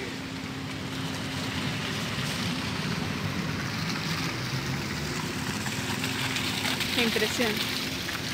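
Heavy rain on a flooded street in Bogotá makes a constant, dense hiss and patter throughout. A voice speaks briefly over the downpour.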